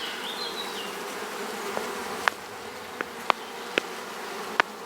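Honeybees at an opened hive with brood, eggs and larvae, giving a steady low buzzing hum throughout, with a few faint sharp clicks and taps rising above it.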